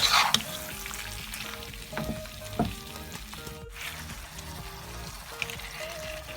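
Food frying in oil in a pan on a stove during home cooking, a steady crackling sizzle with occasional stirring clatters and pops, moderately close and without talk.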